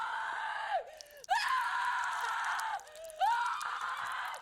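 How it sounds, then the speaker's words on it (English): A woman screams in terror in the horror film Terrifier 3, sustained high shrieks broken by a brief gasping pause, then a second long scream, loud and close with no talk. "she starts screaming in earnest."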